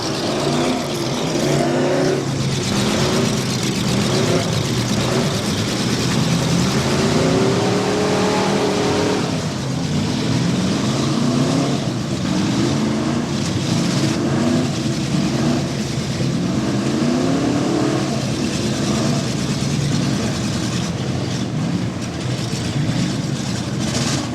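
Cars in a fall demolition derby rev and roar continuously, loud and close, with engines rising and falling under a steady crowd din and occasional thuds of impact.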